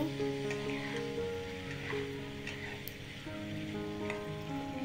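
After three minutes under a lid, the food in the pan is stirred, bringing a soft, low sizzle and light scraping. A steady hum and tonal background noise run beneath.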